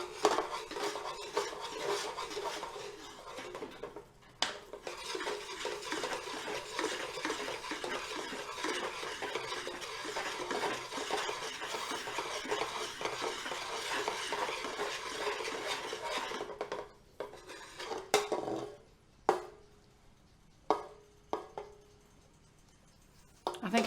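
A utensil stirs caramel sauce round and round in a pan, a steady close scraping and swishing that breaks into a few separate scrapes and taps near the end, with no voices over it.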